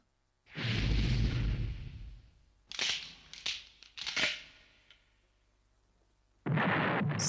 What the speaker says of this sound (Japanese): 炎と火薬を合わせて爆発を起こしたのか